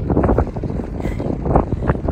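Strong wind buffets the microphone in a constant low roar that rises and falls, with no clear voices, high on a mountain trail in the High Uintas Wilderness.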